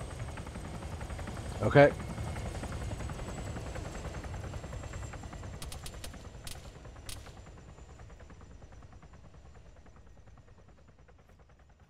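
A helicopter drones steadily in the video game ArmA 3 as a low rotor rumble that slowly fades. A brief word is spoken and a few sharp clicks sound in the middle.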